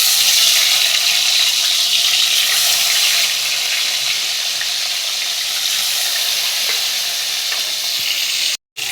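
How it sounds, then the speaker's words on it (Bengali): Pieces of katla fish fry in plenty of hot oil in a kadai, giving a loud, steady, close sizzle that holds throughout and cuts off briefly near the end. "এবারে মাছগুলো একে একে আমি ভেজে নেব।"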